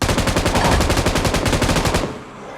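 An M249 machine gun in a video game fires one loud sustained burst of rapid, evenly spaced shots for about two seconds, then cuts off into a brief fading echo.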